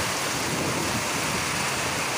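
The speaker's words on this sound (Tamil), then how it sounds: "பார்த்தீங்களாண்ணா ஃபுல்லு மழை பெய்யுது." Heavy rain pours steadily outside a temple in one continuous, even hiss that fills the whole moment, with no voices.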